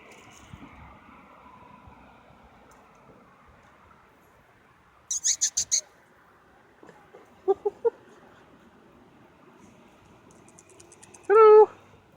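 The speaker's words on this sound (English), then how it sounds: "There's an owl over here." An owl calls in the wild with several short bursts of rapid pulsed notes, spaced apart over low background noise, ending in a louder, nearer trilling call.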